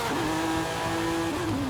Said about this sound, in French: Oh ce moteur.